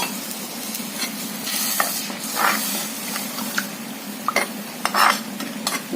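A spoon stirs sambar in a pot after hot water has gone in, with repeated scraping strokes and clinks against the metal over a continuous sizzle and hiss, close and fairly loud with no talking.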